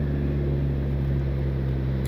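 A Suzuki GSX motorcycle engine drones steadily and loudly while riding, a constant low hum with no pauses, heard alone.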